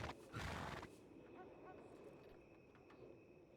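In a Western-themed video game, a horse gives a loud whinny at the start, followed by fainter neighing and scattered hoofbeats under soft background ambience.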